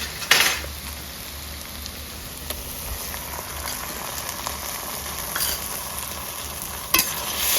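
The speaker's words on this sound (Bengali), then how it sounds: "দু তিন মিনিট নেড়ে করে করতে নেবো ভালো করে আদা রসুনের কাঁচা গন্ধটা চলে যাবে" Browned onions with ginger-garlic paste sizzle steadily in a pan for chicken curry, with a few sharp spoon scrapes and knocks against the vessel as the mixture is stirred, close and continuous.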